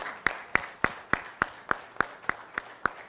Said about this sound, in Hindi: प्लीज़ एक बार ज़ोरदार तालियां